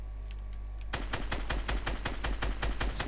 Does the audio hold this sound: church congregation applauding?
no